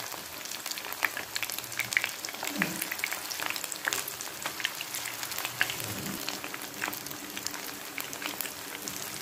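Paneer pieces frying in hot oil on a gas stove give a steady broadband sizzle with scattered crackles and pops, close by and moderately loud, with no talking.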